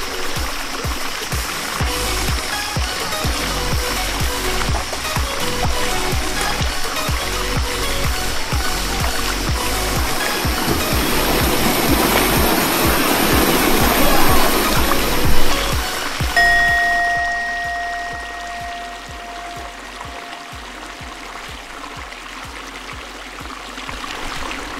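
Warm river formed where a cool freshwater stream and a hot spring river merge in the Flores jungle, flowing as a steady, close rushing and trickling wash that swells before easing into a softer, thinner murmur.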